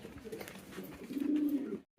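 A domestic pigeon coos from its corner nest in a pigeon loft, giving a low, throaty, close-up coo that swells in the second half before cutting to silence.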